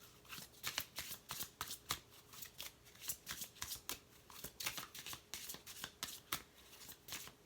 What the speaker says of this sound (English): Let's pull a moon card and just see what they have to say for this full moon.